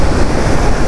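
Cold wind blows beside the Marsyangdi river in Manang, Nepal, as a brief, loud, steady broadband rush with no voices.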